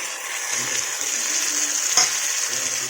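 Two large tomatoes frying in a pan for a one-kilo biryani, giving a steady, bright, close sizzle with faint stirring underneath and one sharper scrape near the end.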